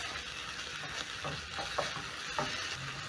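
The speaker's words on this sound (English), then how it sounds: "Stir in the tomatoes, and then I'm going to add in tomato paste" Two diced tomatoes stirred into a hot pan for a fish stew: a steady sizzle under scraping spoon strokes that come every half second or so, close and moderately loud, with no voices.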